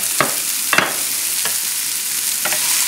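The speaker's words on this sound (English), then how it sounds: "so I'm going to put the garbanzo beans in there" Garbanzo beans are dropped into a hot pan with broccoli, setting off a constant loud sizzle with a few sharp bursts as they land, close by and with no talking.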